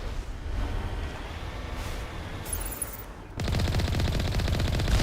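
Enemy heavy turret firing in Mass Effect 1, steady rattling gunfire throughout, swelling into a louder, denser rapid burst partway through.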